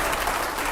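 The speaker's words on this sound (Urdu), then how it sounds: "پہلے زوردار تالیاں ہوں یہاں پر دکھائیے" Loud, dense audience applause on a televised Urdu-language talk show, a steady wash of many hands clapping at once with no talk over it.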